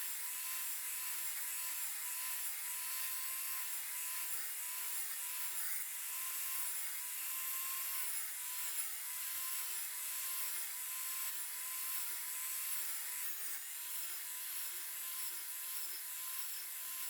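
Steady, continuous buzzing of a power saw cutting half-lap joints into wooden legs for a woodworking project, a bright high-pitched whine that holds level and close for the whole stretch with no talk.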